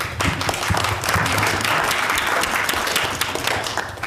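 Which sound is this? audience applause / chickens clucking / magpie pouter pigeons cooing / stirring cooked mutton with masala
audience applause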